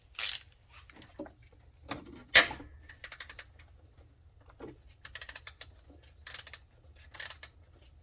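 A ratchet on a 14 mm adjuster bolt of a 1999 Acura RL timing belt tensioner gives bursts of quick metallic clicking, several short runs spread across quiet gaps, close and fairly soft.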